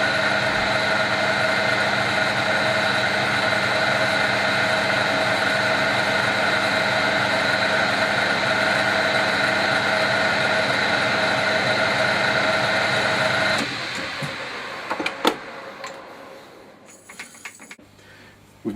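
A lathe turning a chamfer on the front of a rifle barrel at a custom rifle maker's shop drones steadily and loudly, then winds down and stops, leaving a few faint clicks and clunks.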